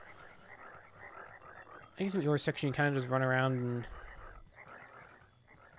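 Frogs croak in the video game Rumbly Tumbly Adventure, a cartoonish croaking burst standing out loudly for a couple of seconds over a steady game background while a person talks.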